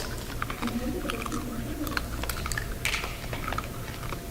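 Crisp crunching of dried kelp being bitten and chewed close to the mic, a rapid series of sharp crackles over steady background noise.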